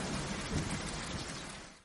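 Heavy rain pours down in a cartoon forest as a dense, steady hiss of falling water, loud and continuous before it cuts off abruptly at the end.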